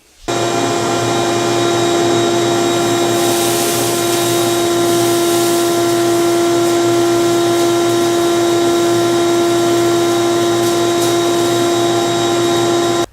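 A budget shop vacuum with a cyclone dust collector runs steadily and loudly with a constant whine, alone and with no talking.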